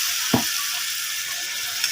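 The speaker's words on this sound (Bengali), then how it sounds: "মশলাটা লেগে না যায় তার জন্য এখানে আমি হালকা করে জল দিয়ে দেবো" A splash of water hitting spice masala with turmeric in a hot pan, giving one sharp burst followed by a steady bright sizzle and faint scraping.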